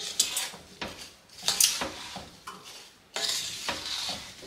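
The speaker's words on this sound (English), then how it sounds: "So what I'm going to do is just stir this in here." Chopped rhubarb stirred with sugar in a bowl, giving repeated gritty scraping and clinking strokes in an irregular rhythm, close and fairly loud.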